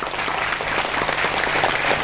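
A crowd at a training event in an Ahmedabad hotel claps loudly for a leader, the dense, even applause filling the whole short stretch without a break.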